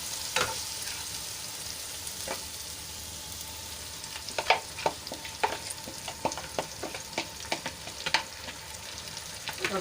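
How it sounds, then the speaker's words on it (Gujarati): Spice and yogurt paste stirred into onions frying in a pan, giving a steady sizzle with repeated scraping clicks of the spoon in an uneven rhythm, close and fairly quiet, with no voices. "મસાલા અને દહીંની જે પેસ્ટ બનાવીને રાખી હતી એ આપણે આમાં એડ કરી લઈશું"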